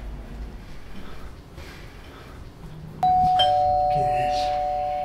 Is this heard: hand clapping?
no